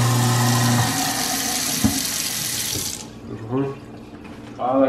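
A kitchen sink tap running at full flow, a steady close rushing splash that stops abruptly partway through, after which people talk in the quiet room.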